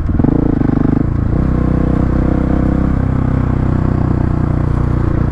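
A 2021 Husqvarna 701 Supermoto single-cylinder engine pulling at open throttle while riding, a loud, steady, close-up drone with a rough pulsing texture throughout.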